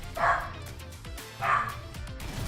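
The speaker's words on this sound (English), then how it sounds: "I don't know why my dog's going crazy right now." Two sharp barks from a worked-up dog, spaced about a second apart, heard a little off-mic over a low background of game sound.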